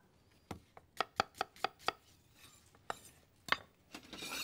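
A knife chops onion slices on a board in a quick run of sharp, evenly spaced knocks, a short pause, then a few more scattered cuts, close and clear with no talk.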